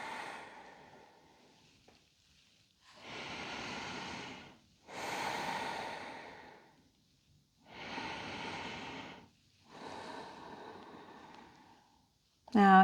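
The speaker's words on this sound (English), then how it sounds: "Breathe." Slow, deep breaths held in a yoga low lunge, several long audible inhales and exhales of a few seconds each with quiet gaps between, close and fairly soft, ending with a brief voice.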